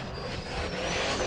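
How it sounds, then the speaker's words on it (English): A turbocharged race car at a Holley EFI Shootout racing event, its engine roaring loud and steady at high revs with a sustained high-pitched turbo whine riding over the din, close and continuous without speech. "Listen to that singing turbo."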